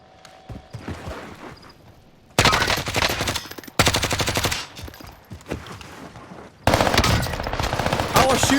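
Armaguerra 43 submachine gun firing in Warzone, with loud, rapid bursts of automatic fire in three long strings separated by short pauses, and quieter game sounds in the gaps.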